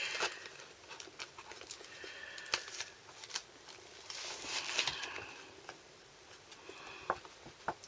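Stampin' Up! patterned paper sheets rustle, flick and shuffle up close, with scattered sharp taps and crinkles in a quiet room.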